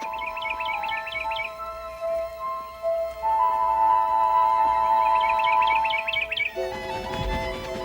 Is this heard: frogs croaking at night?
no